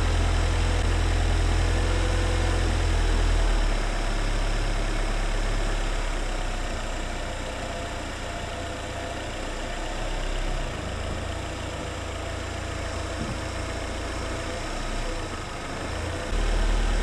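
A 2002–2006 Nissan Altima's engine runs steadily after a transmission replacement while shifting is tested, a low, even hum with a slight dip and swell in level partway through.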